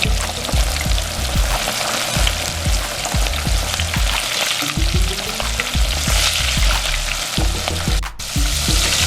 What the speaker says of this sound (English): I'm gonna drop these into the oil.